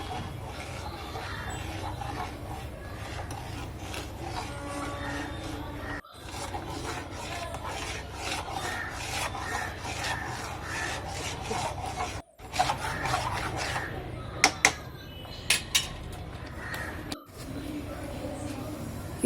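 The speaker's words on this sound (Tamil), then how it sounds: "கட்டி பிடிக்காமல் கொஞ்சம் கொஞ்சமாக போட்டு ரவையை கிண்டி எடுத்துக்கணும்" Semolina being stirred in a pan for Tirunelveli-style rava kesari, a steady close scraping rub that runs continuously with a few brief pauses and some sharper knocks near the end.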